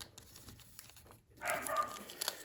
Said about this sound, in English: As the dogs continue to bark in my house here.